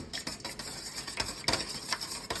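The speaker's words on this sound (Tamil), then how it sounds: "4 எக்கு உடச்சி ஊற்றியாச்சு. இதை மிக்ஸ் பண்ணிக்கலாம்." Cake batter of four eggs and soaked dry fruits and nuts being mixed for a plum cake, with a spoon stirring and clinking against the bowl in quick, uneven strokes, fairly quiet and close.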